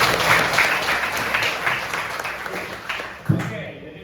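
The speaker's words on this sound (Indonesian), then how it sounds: "Oke, coba berikan tepuk tangan untuk teman kalian." Students in a junior high school classroom give a short burst of applause that fades over a few seconds, with a teacher's voice heard over the clapping.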